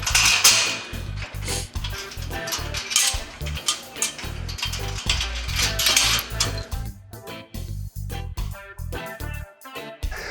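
Metallic clinks and ratcheting clicks as bolts are tightened while assembling a Grow Pro's Solutions V-Track rolling bench, close irregular bursts with brief pauses, no talking.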